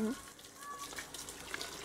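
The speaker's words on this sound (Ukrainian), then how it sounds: "Зараз я те, що ми нарізали, залью водою." Water pours from a container onto chopped corn stalks, a soft, faint gushing splash that runs for about two seconds, with a brief voice at the start.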